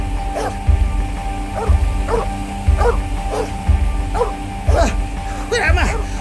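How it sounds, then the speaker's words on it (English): A dog barks again and again at a steady pace, about one yelp every second, with yips rising higher near the end, heard through low background noise. "It would have been alright but for that infernal dog"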